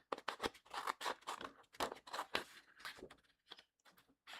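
Scissors snip in quick, close, crisp cuts as they are fussy cut around a paper flower, a steady run of short bursts with brief pauses and no talking.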